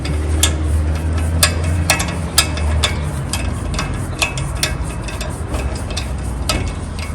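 A screwdriver tightening the rotor retaining screw on a Honda Accord brake hub, heard as a close series of irregular sharp metallic clicks and scrapes over a low background rumble.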